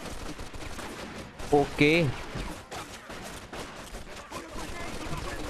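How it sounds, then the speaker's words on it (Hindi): Gunfire rattles in the video game Mafia 2 as a steady stream of fairly quiet shots, with someone speaking briefly over it. "होप कि आप लोगों को भी गोलियों की आवाज़ आ रही होगी भाई साहब"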